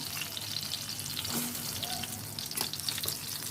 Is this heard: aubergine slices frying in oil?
yes